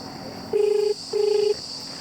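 Two electronic ringback tones sound in sequence, each a steady buzzing pulse about half a second long, separated by a short pause over a faint hiss.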